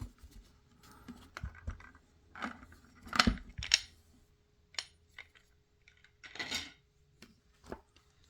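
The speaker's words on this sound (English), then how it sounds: "we need to unscrew these 5 screws and look inside" Screws are backed out of a Roland single-trigger drum pad with a hand driver, giving quiet, scattered scratchy clicks and small scraping twists, close up and sparse against near silence.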